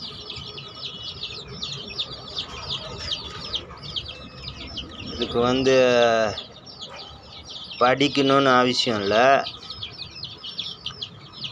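Chickens cluck and chirp steadily at a country chicken farm on a morning, with someone speaking in two short bursts over the birds partway through.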